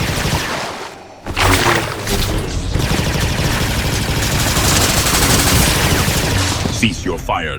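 Sustained automatic gunfire in the video game Fortnite, a dense, loud continuous barrage lasting most of the stretch, with a voice speaking over it.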